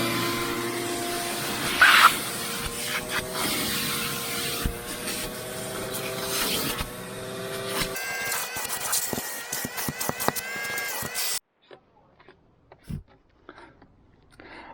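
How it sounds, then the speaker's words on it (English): A vacuum whooshes steadily inside a Toyota Corolla as sand is sucked from the interior, with rubbing and scraping of the nozzle against the carpet, then the motor stops and a few faint handling noises follow. "alright, so I got everything pretty much vacuumed up"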